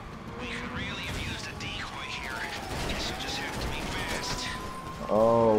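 Rapid bursts of gunfire in a heist video game, with a siren wailing underneath and a loud mechanical burst near the end, set against busy game noise.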